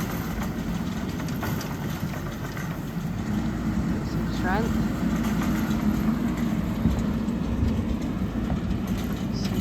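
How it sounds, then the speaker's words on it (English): A tractor engine's steady low rumble runs throughout on a sheep farm, with someone speaking briefly over it and wind or outdoor noise in the background. "Nathan's just moving this tractor against the fence."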